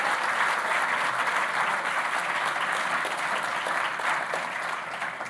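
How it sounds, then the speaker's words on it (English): A crowd at a talk on public parks and public spaces gives a round of applause: sustained, even clapping from many hands throughout, easing slightly near the end. "a round of applause"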